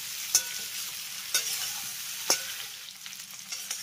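Pieces of young jackfruit fry in hot oil in a pan, a steady soft sizzle punctuated by three sharp spatula scrapes at regular intervals.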